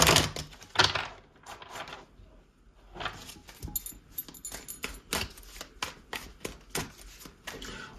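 Tarot cards being shuffled in repeated bursts of crisp riffling and slapping, close and fairly loud, with short pauses between runs and no talking.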